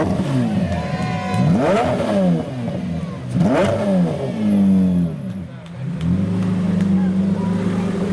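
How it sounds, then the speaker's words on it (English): A sports car engine revs up and down repeatedly, rising and falling in pitch, loud and close with steady rumbling between bursts. "Let's get some more revs."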